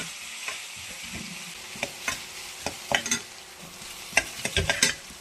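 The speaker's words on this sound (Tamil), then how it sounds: "வெங்காயம் நல்லா வதங்கணும்" Onions with curry leaves sautéing in a pan for kathirikai kara kulambu, a gentle continuous sizzle broken by sharp spatula scrapes and taps, close by and without speech.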